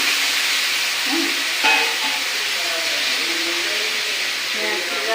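Onions sizzle steadily in hot oil in a pan, a broad, continuous frying hiss lasting throughout with one brief louder crackle near the start and faint background sounds.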